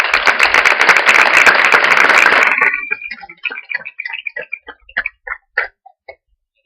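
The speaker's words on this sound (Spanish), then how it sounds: "le brindamos un fuerte aplauso" A panel audience applauds loudly in a dense wash of many hands, then the clapping thins out into scattered individual claps that taper off and stop.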